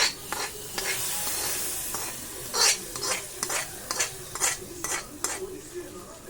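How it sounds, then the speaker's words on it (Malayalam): Mustard seeds splutter and sizzle in hot oil while being stirred for a sweet mango curry, a steady frying hiss broken by a series of sharp, close pops and scraping stirs. "കടുക് പൊട്ടി"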